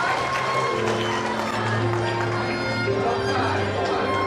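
Wedding guests at a Saigon wedding ceremony clap steadily for the couple's kiss, a dense, sustained patter of applause blended with background music and voices that holds for the whole stretch.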